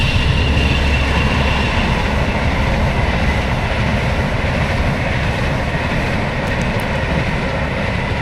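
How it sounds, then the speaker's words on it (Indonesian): A panoramic passenger train rumbles past close by, a loud, continuous roar of wheels and carriages that holds steady for several seconds, with no talk over it. "kereta apa ya namanya ya,"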